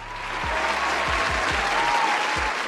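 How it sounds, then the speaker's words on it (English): Sustained applause from a crowd, a steady wash of clapping throughout with a few low thumps underneath. "give him a round of applause"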